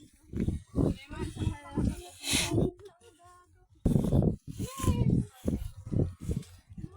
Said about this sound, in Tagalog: Naku, ayan ay kalabaw.